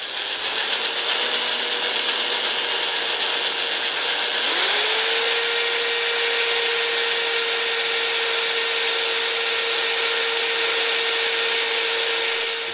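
A small, cheap sharpened drill bit bores into a broken bolt, giving a steady, loud grinding whine that shifts pitch partway through and then holds a sustained tone to the end, close up with no talking.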